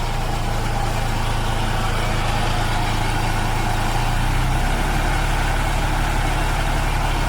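Engine on a portable sawmill idling steadily with a loud, continuous drone, then stepping up to a higher idle speed partway through and holding there.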